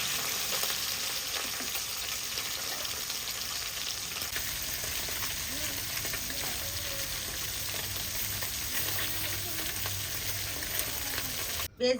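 Oil crackles steadily in a village kitchen kadai for a curry of small fish and sour leaves, giving a continuous close hiss with faint scattered pops and no voices.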